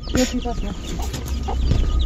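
Chickens cluck in short, nearby bursts, several birds calling intermittently over a busy outdoor background with faint voices, in a village in western Nepal.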